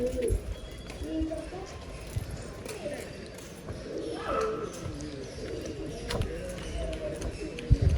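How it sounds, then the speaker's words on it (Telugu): Pigeons coo softly in the background at a hill station, low repeated calls mixed with people talking nearby and some scattered knocks and footstep-like sounds. "బర్డ్స్."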